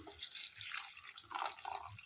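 Water pours steadily from a tap or jug into a cooking pot for a millet (varagu rice) and rajma kidney bean pulao, a close, continuous splashing gush with no talk.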